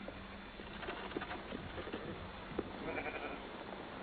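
Faint sheep bleats rise intermittently from a flock crossing the desert, a few short calls heard at a distance over a steady background.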